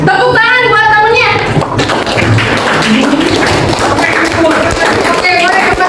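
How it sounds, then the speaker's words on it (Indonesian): A classroom of students claps for a classmate during a school lesson, a busy, continuous patter of hands that follows a teacher's brief talk at the start. "Oke, tepuk tangan buat temennya."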